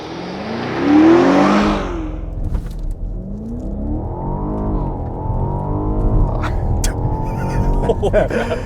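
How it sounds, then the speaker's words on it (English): A 2021 BMW Alpina XB7 with a 4.4-litre twin-turbo V8 launching under launch control, a loud engine surge then a rising, climbing pull through the gears, heard from inside the SUV. "2021 BMW Alpina XB7 with launch control."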